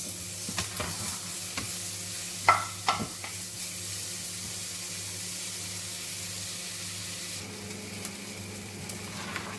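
Onions and garlic fry in a pan for fried rice, a continuous close hiss of sizzling broken by a few sharp clanks and scrapes of a spatula early on.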